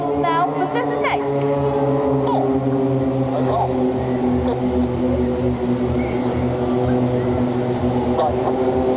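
Aerobatic display aircraft of the Royal Navy Black Cats and Blades drone overhead with a sustained engine tone shifting in pitch, heard beneath a commentator's voice over a public address.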